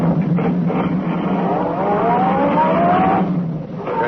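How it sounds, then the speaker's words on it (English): A sedan accelerates along a concrete road in a classic radio drama effect, the engine note climbing steadily and nearby for several seconds before easing off. "The sedan sped along the concrete after Brinkley's car."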